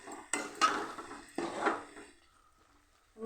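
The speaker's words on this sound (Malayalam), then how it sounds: "നന്നായി ഇതൊന്ന് ഇളക്കി കൊടുക്കുക." Clinking scrapes of a spoon stirring chicken curry in a pot, two close bursts of stirring followed by quieter moments and a final knock.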